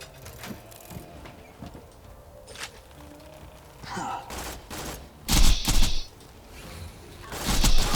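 Slag SMG fire in Borderlands: a few bursts of rapid gunfire, loudest near the end, between quieter game sounds.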